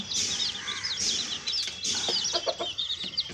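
Free-roaming backyard chickens cluck and chatter in a small flock, a busy overlapping stream of clucks and short squawks nearby with a few scattered knocks.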